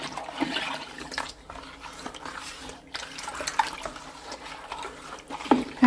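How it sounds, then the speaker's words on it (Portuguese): Baking soda stirred into room-temperature water in a basin for homemade liquid detergent, heard as continuous soft sloshing and swirling with small drips and splashes, close by and fairly quiet, with no talk. "Vou pôr 3 colheres de sopa de bicarbonato de sódio. Agora eu vou mexer para dissolver por completo."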